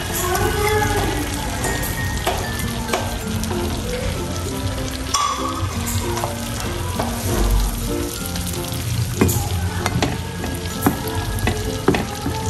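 Onions tip into a hot pan for a seafood boil and hiss in a loud, continuous sizzle with crackling pops and occasional utensil clatter, lasting throughout without speech.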